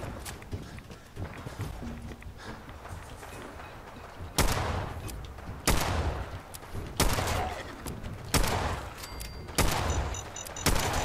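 Auto rifle gunfire in Fallout 4 comes in sharp, loud bursts of rapid shots repeating about every second, layered over rumbling game ambience with footstep-like patter.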